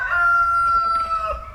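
A rooster named Daryl crows loudly and close by in one sustained, tonal cock-a-doodle-doo lasting over a second, over a low background rumble.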